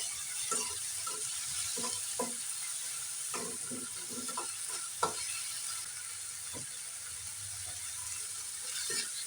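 Ginger and garlic frying in a pan for a stuffed pointed-gourd dolma, a low steady sizzle broken by repeated light scrapes and clicks of a spoon stirring, quiet and close, with no talking.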